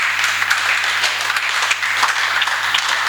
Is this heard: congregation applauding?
yes